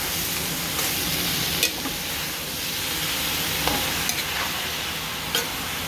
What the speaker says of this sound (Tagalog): Ganito ako magluto na pansit.